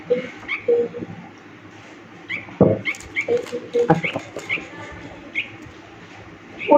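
Small bird chirps and short calls repeat on and off nearby, with light rustling and a few soft knocks between them.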